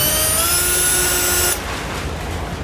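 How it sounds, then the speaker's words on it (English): A 31/64 drill bit bores a hole for a bracket on a 2012 Mercedes-Benz, giving a loud, steady high-pitched whine that cuts off abruptly partway through, leaving a duller broadband rumble. "using a 31/64 drill bit to mark the center"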